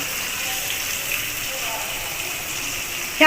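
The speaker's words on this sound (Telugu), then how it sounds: "ఈ పులుసు మనం తాలింపులో వేసేసుకుందామండి" Pumpkin stew poured into a hot tempering of cumin and curry leaves, a steady hiss and gush of liquid that holds at one level throughout, with a brief louder burst at the very end.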